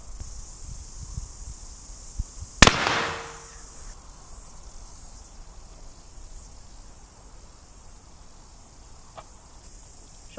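A CVA muzzleloading rifle fires a single shot of homemade black powder outdoors: one sharp, loud report with a short decaying tail, then quiet ambience with insects chirping steadily in the background.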